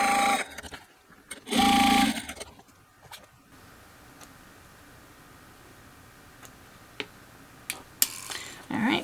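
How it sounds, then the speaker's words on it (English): Sewing machine top stitching a bag at a narrow seam allowance, running in two short loud bursts near the start, then quiet room tone with scattered small clicks and one more brief run at the end. "turn on your machine and top stitch at 1/8 of an inch seam allowance"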